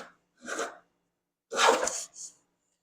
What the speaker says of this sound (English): I'm taking some pretty aggressive shavings there